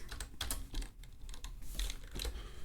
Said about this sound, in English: Oh my god, I can't type today.